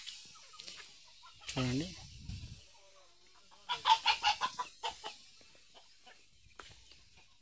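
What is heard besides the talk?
village chickens clucking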